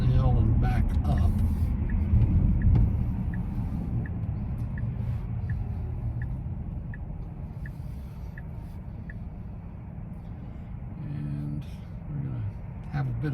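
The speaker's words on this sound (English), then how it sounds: "Have a bit of traffic here." Road traffic rolls around a Tesla Cybertruck driving on Interstate 695 in Baltimore, a steady low rumble of passing vehicles and tire noise with a faint repeating tick over it.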